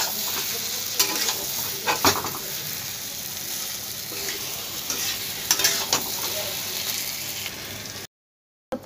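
A potol curry with katla fish roe, ghee and garam masala is stirred in a hot pan: a steady close sizzle with repeated scraping and stirring knocks, ending in a brief silence.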